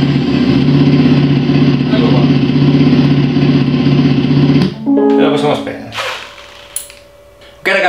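Synthetic engine sound played through an app-controlled sound effect unit on a Super Soco TC Max electric motorcycle: a loud, steady idling drone that rises in revs, then breaks into short, uneven revving bursts before cutting off.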